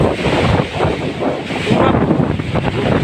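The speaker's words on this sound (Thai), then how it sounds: "ดูบรรยากาศนะครับตอนนี้ฝนสาดเลย" Strong wind roars and buffets the microphone continuously, with a dense hiss like driving rain beneath the gusts.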